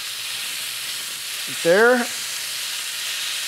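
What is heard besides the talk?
steaks sizzling in non-stick skillets after flipping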